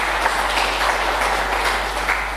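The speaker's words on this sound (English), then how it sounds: "Can you give the minister a round of applause?" An audience at a World Day for Safety and Health at Work event gives the minister steady, dense applause that fills the room and holds level for a couple of seconds before it starts to fade.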